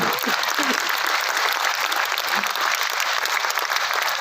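Dense, continuous applause from an audience at a Hindi poetry recital (kavi sammelan), a loud, even roar of clapping with a faint voice at the very start.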